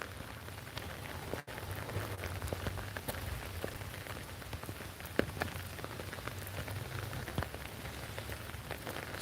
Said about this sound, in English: Some rain in Warwickshire as well.